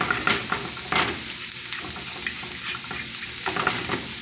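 Spanish-cut potatoes with onions frying in a pan, a dense steady crackling sizzle with a few sharper bursts as they are moved around, close and moderately loud.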